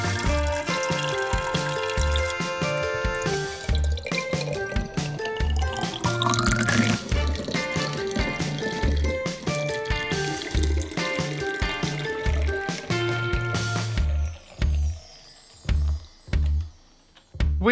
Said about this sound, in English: Open up the tap and let the classic kombucha flow into the bottle.